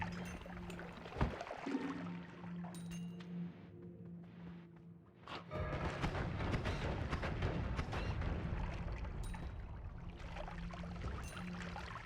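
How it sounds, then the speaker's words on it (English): Explosions in the video game Noita boom and rumble in dense, noisy bursts, with crackling debris and a sustained roar after a brief lull, moderately loud. "Explosions."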